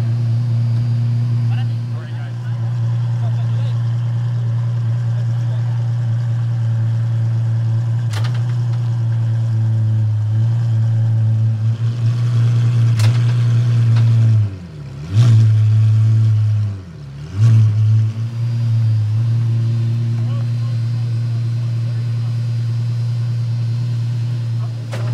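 An Apollo supercar engine rumbles low and steady while being maneuvered into place, staying loud throughout, with two short revving dips and surges near the middle, and talk faintly beneath.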